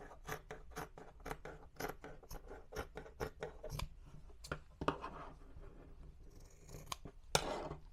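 Scissors snip through fabric for a handmade book cover, trimming away a piece that already carries a seam; a quick run of close, crisp cuts comes in steady rhythm, then slows to a few scattered snips.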